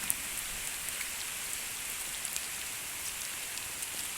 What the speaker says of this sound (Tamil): பாருங்கள் நண்பர்களே பாருங்கள் சரியான மழை